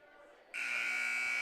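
Buzzer marking the end of a quarter at a girls' varsity high school basketball game, a loud, sustained electronic blare that cuts in abruptly after a moment of crowd noise and holds steady.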